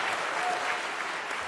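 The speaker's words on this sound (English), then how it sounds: "You could clap for that." Town hall crowd breaks into brief, sustained applause for a mayoral climate plan, an even, moderately loud patter of many hands.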